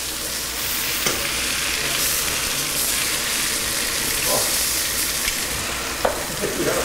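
Pork roast pieces browning in a hot pan give a steady, close sizzle and crackle throughout, with a few brief stirring or turning clicks and no talking.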